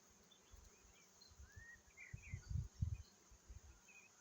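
Bees work phacelia blossoms, their faint low buzzing rising and falling in soft pulses, with a few thin bird chirps in the quiet open-air background.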